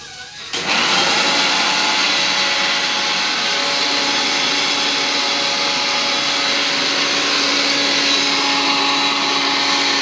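A grinder whirs loudly as it pulses spice paste, starting abruptly and then holding a steady high motor whine with a constant rough grinding texture, nearby and with no talk over it.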